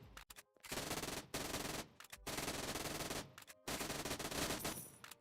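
Rapid automatic gunfire in the Roblox game The Storage, loud sustained bursts of shots broken by a few short pauses, with no talk over it.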